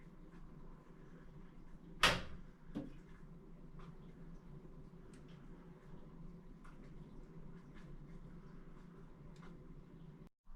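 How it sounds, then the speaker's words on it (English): An oven door swings open with a single sharp clunk near the start, followed by a softer knock, then low steady room hum with faint scattered ticks. "the oven door opens and then you hear somebody shifting their weight"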